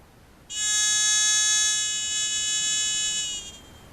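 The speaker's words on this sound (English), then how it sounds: "which is your ground balance, higher until it makes a continuous sound" A Falcon metal detector emits a continuous high-pitched electronic tone as its ground balance is raised for gold prospecting, steady and clear for about three seconds before cutting off, with no talk.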